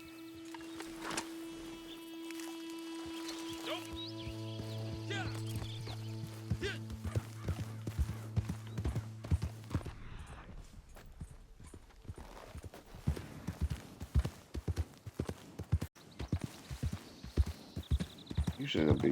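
Horse hooves clip-clopping at speed in the Red Dead Redemption 2 Online video game, with steady rhythmic beats that grow louder and more insistent toward the end, while someone talks over it and musical tones play early on.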